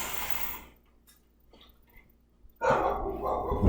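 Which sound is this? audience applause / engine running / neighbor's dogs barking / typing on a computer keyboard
neighbor's dogs barking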